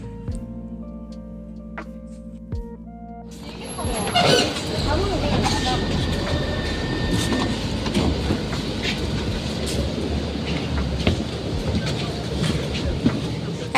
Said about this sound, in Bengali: ট্রাম এসে গেছে ট্রামে উঠে পড়ি আগে